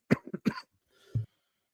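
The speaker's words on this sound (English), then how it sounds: "can't get rid of this cough at the moment" A short run of throaty coughs, three or four quick bursts close to the microphone, then a pause and one more low cough.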